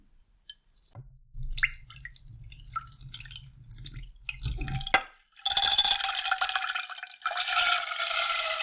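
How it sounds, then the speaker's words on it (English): Soaked mochi ingredients, likely glutinous rice, poured into a pot: early soft clinks and drips, then a loud, steady rush of water and grains spilling in, with a short break before pouring resumes. "I'm going to be pouring these into a pot."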